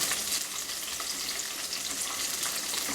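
Green chillies roast in a pan (baanale) for North Karnataka-style hasi khara, giving a steady, dense sizzle that runs evenly from start to finish with no talking.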